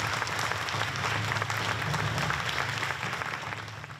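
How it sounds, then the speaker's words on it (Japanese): An audience at a press conference unveiling the cast of a Japanese period drama series claps steadily and fairly loudly, tapering slightly at the end, with no voices. "改めて盛大な拍手をお送りくださいませ。"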